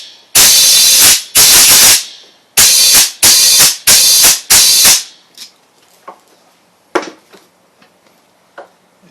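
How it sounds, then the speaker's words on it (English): Loud bursts of compressed air blast into a Honda pressure washer part, five long hissing blasts in a row, then quieter scattered taps and clicks of handling. "just use the full compressed air"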